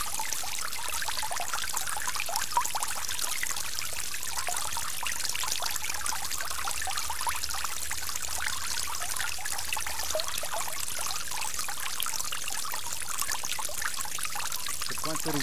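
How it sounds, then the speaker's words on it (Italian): Water flows in a steady, hissing stream with an even trickling texture, constant and unbroken throughout with no voices. "flusso d'acqua."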